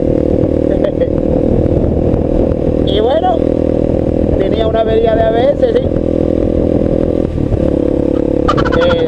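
A Voge 300 Rally motorcycle, recently fixed after an ABS fault, keeps its engine running in a steady close drone while someone talks over it, with a brief higher tone near the end.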